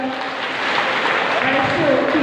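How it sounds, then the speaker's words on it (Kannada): A seated audience at a Kannada public function honouring dignitaries breaks into brief, steady applause, with a voice speaking over the clapping. "ಎಲ್ಲರ ಪ್ರೀತಿಯ ಚಪ್ಪಾಳೆಯನ್ನು"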